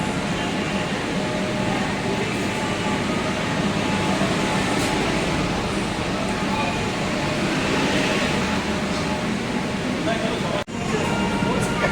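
A continuous loud rumble and whoosh of a new metro train on the Sealdah to Howrah line fills the space, steady throughout with a brief dip near the end, voices faintly underneath.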